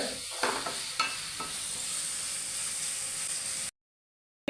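Sliced onions fry with salt in hot oil for soya fries, giving a close, continuous sizzle with a few stirring scrapes near the start before the sound cuts to silence.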